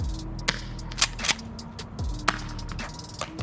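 A JAG Arms Reaper TS gas airsoft shotgun fires in tri-shot mode outdoors, giving several sharp, separate pops spaced about a second apart over a low background hum.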